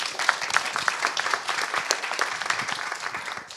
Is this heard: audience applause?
yes